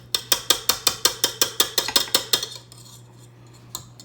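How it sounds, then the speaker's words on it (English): Mixing attachment being taken off a stand mixer after mashing potatoes: a quick, even series of about thirteen sharp metallic clicks or taps close by, then a pause and one last faint tap. "I'm going to take the mixing bit off here"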